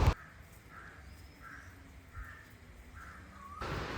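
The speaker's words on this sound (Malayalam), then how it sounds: "ഇവിടെ ഫുൾ ടൈം കിളികളുടെ കരച്ചിലാണ് കേട്ടോ" Birds calling outdoors, several short repeated calls spaced roughly evenly through the clip, moderately near over a quiet background.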